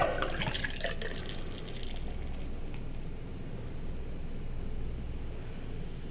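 Molson Golden beer pouring steadily into a glass, a close splashing gush at first that settles into a continuous fizzing, bubbling hiss.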